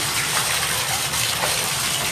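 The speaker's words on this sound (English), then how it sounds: "Cleaning my bathtub." Water runs continuously into a bathtub during cleaning, a steady dense gushing hiss with a low rumble beneath, close and unbroken for the whole stretch.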